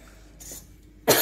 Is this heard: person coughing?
yes